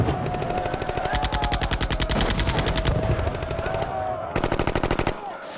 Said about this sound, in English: they're shooting at them with rifles and machine guns